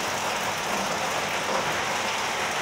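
Steady rain falling and pattering on surfaces outdoors, a continuous even hiss with no letup, fairly close and with no voices.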